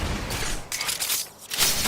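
Gunfire in Apex Legends during a firefight, loud bursts of shots in quick succession with a brief lull before another burst.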